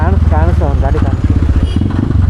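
A motorcycle engine chugs loud and close throughout, its uneven pulsing putter running steadily while a person talks over it.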